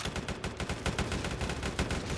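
Rapid gunfire in the Roblox game rBREACH, a dense, continuous stream of loud shots in quick succession that runs throughout with no pauses and no talking.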